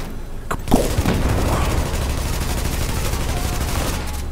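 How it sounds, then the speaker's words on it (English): Shock charge and grenade fired at an armored boss in The Division, a sharp bang and burst followed by continuous dense gunfire and rumbling booms, loud and close. "But I shoot this little shock charge and blind him. And then I toss a little grenade after him."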